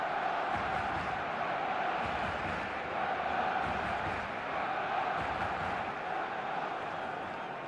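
A large stadium crowd in the eFootball video game makes a steady, dense roar with a constant murmur of cheering throughout and no clear breaks.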